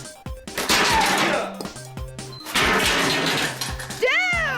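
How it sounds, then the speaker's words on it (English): A man smashes a PlayStation console to pieces, giving loud repeated crashing impacts and shattering debris in two heavy bursts, with cracking, clattering fragments and a shout near the end. "What he the smashes his son's console to pieces."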